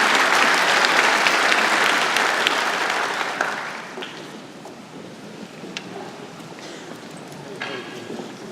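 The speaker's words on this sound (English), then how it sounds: "a big applause to my nephews, the Blackstone Singers" A convocation audience applauds the Blackstone Singers at a spring graduation ceremony, loud and dense at first, then thinning into scattered claps as it fades, with some voices underneath.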